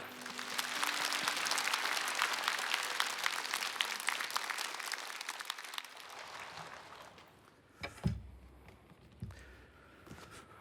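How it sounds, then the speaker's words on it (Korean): A church congregation applauds as a guest pastor comes up to preach, dense steady clapping filling the room for about six seconds before fading out, followed by a few scattered thuds and footsteps. "세우신 하나님께 영광의 박수로 맞도록 하겠습니다"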